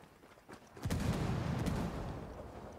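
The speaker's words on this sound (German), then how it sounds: "Ich tue da mal eine Explosion verursachen." A sudden deep boom bursts in after a quiet moment, then a rumbling blast rolls on and slowly fades, an explosion in the video game Ghost Recon Wildlands.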